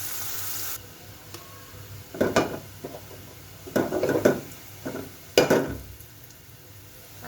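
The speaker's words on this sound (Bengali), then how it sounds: "সরষের তেল দিব।" Mustard oil in a pan for eggplant curry gives three or four short, close bursts of sizzling and spattering with quiet pauses between, after a brief hiss at the start.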